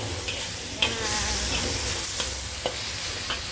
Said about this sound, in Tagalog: At haluin natin mga aunties hanggang sa maluto na siya.